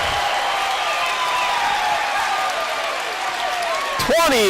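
A men's college basketball crowd cheers and applauds after a dunk, a steady loud roar of voices and clapping filling the arena, with a commentator's voice cutting in near the end.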